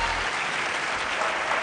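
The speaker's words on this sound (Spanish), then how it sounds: "Creo que es la ovación más prolongada que se ha dado jamás en la historia de este programa" Studio audience gives a sustained ovation for actor José Sacristán on a Spanish TV talk show, dense steady clapping filling the whole stretch without letting up.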